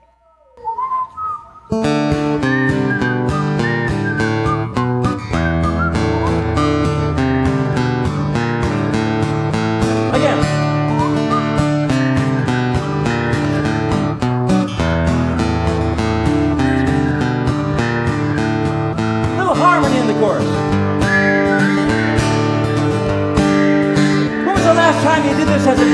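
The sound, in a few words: whistled song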